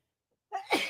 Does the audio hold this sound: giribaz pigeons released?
no